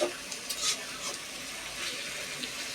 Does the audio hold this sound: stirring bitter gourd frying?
yes